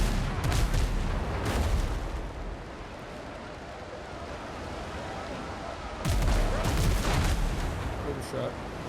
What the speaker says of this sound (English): aiming cannon on a ship at sea can't have been the easiest thing in the world